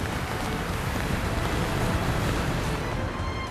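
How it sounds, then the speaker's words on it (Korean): Large waves churn and crash around a fishing boat on the winter sea in heavy rain, a dense, unbroken wash of surf and wind, loud and close with no pause. "파도마저 크게 일렁입니다."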